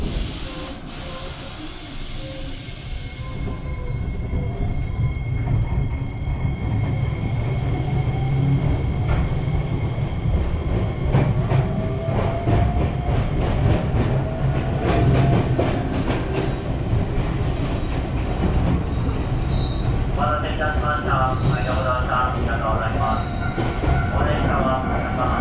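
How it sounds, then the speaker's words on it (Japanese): Heard from inside an Iyo Railway train in Matsuyama, Japan, it rumbles steadily along the rails with rhythmic clacking, a faint hiss and occasional high wheel squeals throughout. "この列車に乗って鬼怒山駅に向かいます"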